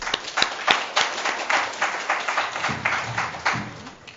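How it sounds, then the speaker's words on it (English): A seminar audience claps as a guest speaker is welcomed onto the stage, with steady, fairly close applause and distinct individual claps standing out. "So a big round of applause for Sophia Lane."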